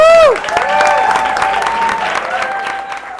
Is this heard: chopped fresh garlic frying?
no